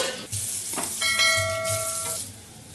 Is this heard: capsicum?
yes